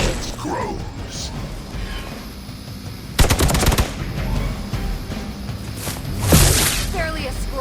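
Gunfire in Marvel Midnight Suns: a sharp rapid burst of shots mid-clip and a second heavy blast near the end, over a busy game backdrop with game voices speaking.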